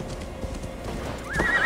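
A horse in Assassin's Creed Valhalla gives a close, loud whinny while its hooves clip-clop steadily underneath.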